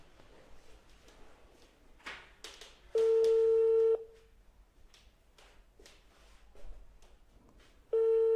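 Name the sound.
telephone dialing and ringing tone while calling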